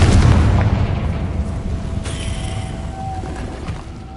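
A heavy, booming blast from the Confringo fire spell in Hogwarts Legacy on PS5, loud at onset with deep low rumble that slowly trails off, a faint tonal hum and a brief whoosh partway through.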